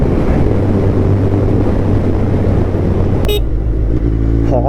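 Suzuki Hayabusa GXR1300 Gen3 motorcycle from 2021 fitted with an Akrapovic full exhaust, a loud, steady close-up engine drone with a brief sharp high-pitched blip near the end.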